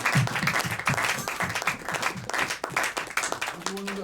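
Church congregation applauding and cheering for Jesus, dense clapping from a crowd with voices rising over it and speech mixed in.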